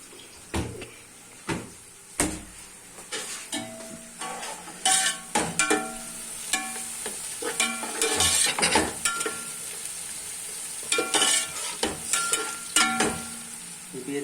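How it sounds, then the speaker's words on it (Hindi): Masala and tomatoes cooking in a pot for a Pakistani palak gosht, with a steady sizzle broken by repeated sharp spoon scrapes and knocks against the pot, close and fairly loud. "टमाटर गलते जा रहे हैं और मसाला पकता जा रहा है"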